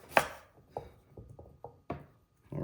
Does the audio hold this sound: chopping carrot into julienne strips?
yes